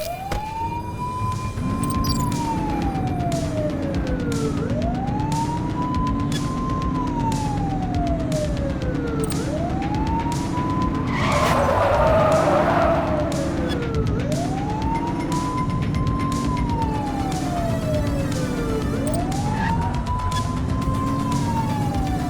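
Police car sirens wail through a pursuit in The Precinct, a loud, close siren sweeping up and down in slow repeating cycles over steady engine drone, with a brief crackling burst midway and no talk.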